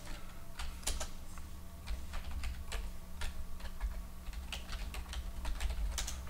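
A computer keyboard typed on steadily at close range, giving a run of quick, light key clicks in an irregular rhythm over a low constant hum, with no speech.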